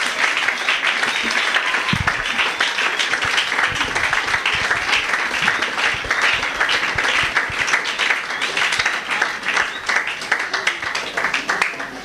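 A church congregation bursts into loud, sustained applause for Jesus Christ, dense continuous clapping filling the hall at steady intensity with faint voices mixed in.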